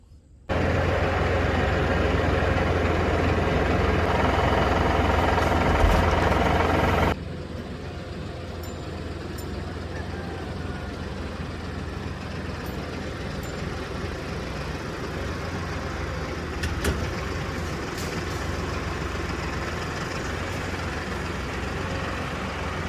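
A truck engine runs while moving a trailer, a steady low diesel rumble that starts loud and close, then drops to a quieter, continuous drone with a brief swell partway through; no talking.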